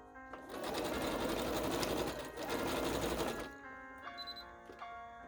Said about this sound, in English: So simply using the straight stitch and use a back stitch so the entrance will be more secure.